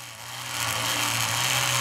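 A rotary drill grinds a hole into a gemstone with light hand pressure, a steady high whine and buzz that holds evenly, close and moderately loud, with no voices over it.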